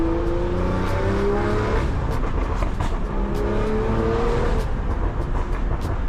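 A BMW M340i accelerates hard while driving, its engine note climbing through the revs in rising sweeps with gear changes, loud and close from inside the car, tire and road rumble underneath.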